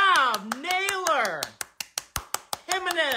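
Cleveland Guardians fans clap in a steady run of about eight sharp, evenly spaced claps at a baseball game, bracketed by loud, excited shouting voices before and after.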